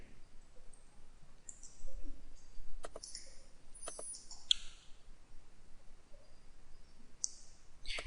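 A few sharp, quiet computer mouse clicks, spaced out in a nearly silent room.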